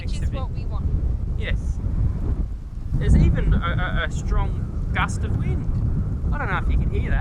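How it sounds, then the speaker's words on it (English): Strong gusts of wind batter the microphone at a Grampians lookout in Victoria, Australia, a low rumbling roar that swells mid-clip, while people talk intermittently over it. "There's even a strong gust of wind."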